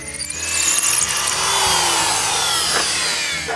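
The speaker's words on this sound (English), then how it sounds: "Then Frankie drills the half-inch hole." A power drill bores a half-inch hole into a concrete foundation during shop construction. The whine is loud and steady and ramps up near the start, with grinding bursts as the bit bites.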